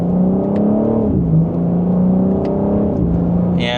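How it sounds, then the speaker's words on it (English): A 2025 BMW M4 Competition coupe accelerating hard, its loud engine note rising steadily and dipping briefly at a gear change before climbing again, close to the listener with no talk. "And then one last acceleration."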